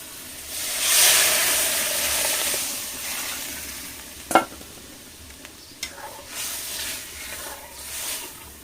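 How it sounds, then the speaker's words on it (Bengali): Boiled moong dal poured into fried spice masala, a strong hissing sizzle that swells early and then settles, with a sharp clatter midway and a few later spoon taps; no talking. "মশলা ভালোভাবে কষানো হয়ে গেছে এবারে দিয়ে দেবো সেদ্ধ করা মুগের ডাল"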